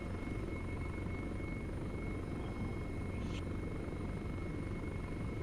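A helicopter drones steadily and fairly faintly at a distance, an unbroken rotor and engine hum with no voices.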